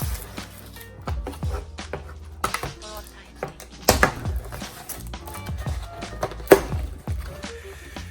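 A cardboard product box for a Winunite tailgate assist kit for a 2015-2019 F-150 is torn open by hand, with a string of loud, close, irregular rips, crinkles and thumps and no talk.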